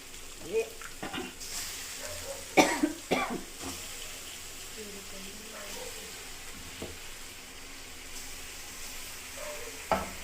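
Roasted paste is stirred into Rayalaseema-style chicken curry in a frying pan, with soft scraping and a quiet sizzle alongside a few coughs and throat clearing.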